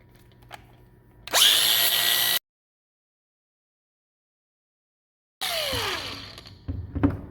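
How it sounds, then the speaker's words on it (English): Angle grinder rounding off the edge of a countertop quarter round trim piece, two loud bursts of high-pitched grinding separated by a few seconds of silence, the second winding down at the end. "I'm just gonna try to round this off with the grinder"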